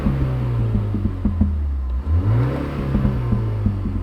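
Artificial engine sound from a Mini Countryman plays through the cabin speakers as the car is revved, a low droning hum with a rising sweep and small intermittent pops, heard from inside the cabin.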